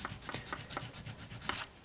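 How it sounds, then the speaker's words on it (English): Quiet, rhythmic scraping of sandpaper against a small plastic Lego piece, cutting notches, several short strokes in quick succession, close by. "Start sanding into it"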